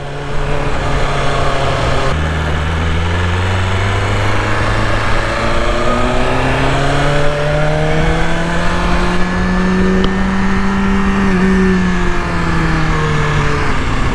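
A 2023 BMW S1000RR sport motorcycle ridden on twisty roads, its engine droning loud and steady throughout, the pitch climbing and falling smoothly through gear changes with constant wind rush.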